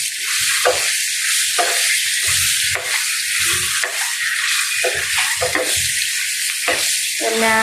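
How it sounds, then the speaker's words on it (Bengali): Eggs fry in hot oil with turmeric, giving a loud, close sizzle broken into regular bursts as the pan is stirred. "এই তেলের মধ্যে ডিম হলুদটা দিবেন তাহলে কালারটা সুন্দর হয়"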